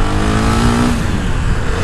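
A new motorcycle with a straight-pipe exhaust revs loudly and close, its engine note climbing then breaking into a rough, sustained roar with no talk over it.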